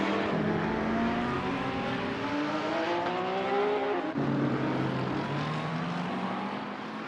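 Simulated GT3 race cars in Assetto Corsa at Spa, including the Mercedes AMG GT3 with its 6.3-litre naturally aspirated V8, roar loudly and steadily. Pitch climbs through the revs, drops abruptly at a gear change midway, then rises again, with no talking.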